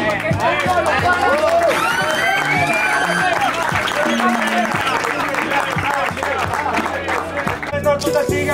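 Crowd applause and cheering at a hip hop freestyle battle event in Miami, dense and loud, mixed with a music beat, crowd babble and shouting voices throughout.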